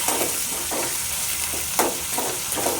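Seeds crackle and sizzle steadily in hot oil, with bursts of stirring scrapes every half second or so, close by and without speech.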